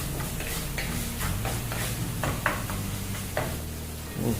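Coriander and tomatoes sauté in a pan for garlic pepper rasam, crackling steadily under intermittent scrapes and taps of a ladle, close and moderately loud.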